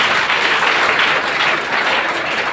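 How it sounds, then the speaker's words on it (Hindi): Audience applause at an award-distribution ceremony held by a coaching institute in Bhatni, a dense, steady clapping wash that runs throughout without a break. "इसके लिए भी आप लोग तालियां बजाएं"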